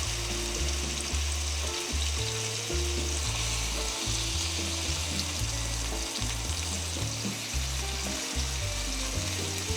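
A rack of lamb sears in a hot pan, giving a constant loud sizzle and spatter with low rumbling underneath that carries on without a break for the whole stretch, with no talking.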